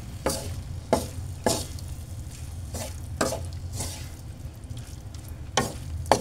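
Fried eggplant being stirred together with sautéed shrimp paste in a pan, with repeated scraping stirs at an irregular pace over a low steady sizzle, close and moderately loud, no talking.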